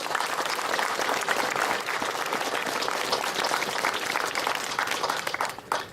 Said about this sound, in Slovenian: Se ne vem, čemu zdaj ploskate temu,